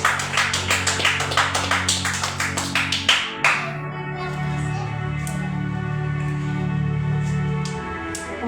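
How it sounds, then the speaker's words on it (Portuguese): Church congregation clapping in a series of sharp, fairly regular claps for about three seconds, then fading into a sustained musical or reverberant hall tone. "E receba a serva do Senhor com as palmas para Jesus."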